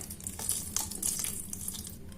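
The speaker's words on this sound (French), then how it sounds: "Donc c'est de l'eau froide, hein, l'eau du robinet." Cold tap water runs from a kitchen faucet into a pot of frozen broad beans, a close, uneven splashing rush that lasts throughout with no speech.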